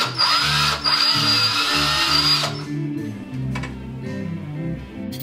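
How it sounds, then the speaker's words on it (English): A power drill with a woodworking bit bores a large hole in a robot cover, a loud whining drone for about two and a half seconds that then drops away to lower, quieter grinding. "So this is a wood working bit. Gonna make quite a big hole here."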